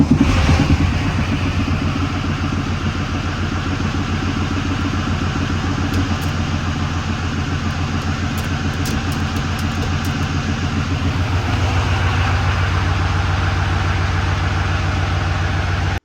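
A race truck's engine runs steadily for the whole stretch, a loud, close, rumbling drone that holds its pitch with only slight rises and no clear revving.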